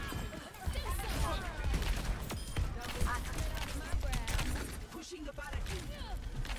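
Ashe's turret firing rapidly during an Overwatch 2 April Fools event match, dense crackling gunfire and game effects running throughout under excited voices talking.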